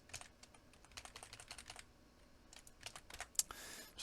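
Rapid keystrokes on a computer keyboard patter in quick bursts, ending with a Ctrl+slash key combination, close and crisp, with a short pause in the middle and no talking.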